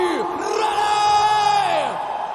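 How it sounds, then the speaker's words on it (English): A crowd at an Immortal FC MMA event in Koramangala Indoor Stadium, Bangalore, roars and yells together, sustained loud shouting with rising and falling whoops filling the indoor arena. "we want you guys to make some more noise for him"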